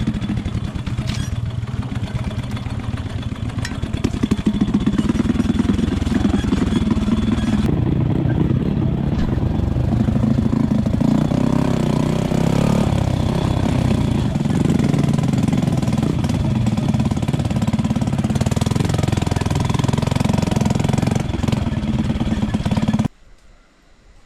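Motorcycle engine running steadily near the microphone on a rainy ride to a stopping spot during a camping trip, a constant low rumble with clatter and slight variations, cutting off abruptly at the end.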